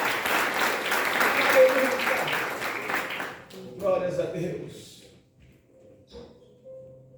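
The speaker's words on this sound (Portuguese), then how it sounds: "Vamos dar mais uma salva de palmas para Jesus." A church congregation applauds during a Portuguese-language sermon, with dense clapping for about three seconds that then tapers into scattered claps, shuffling and a few soft tones.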